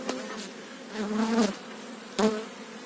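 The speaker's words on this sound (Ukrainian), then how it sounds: "Досить багато бачу молодої бджоли вийшло." A dense, steady drone of many honeybees buzzing close by in an open hive, with individual bees swelling louder as they fly past.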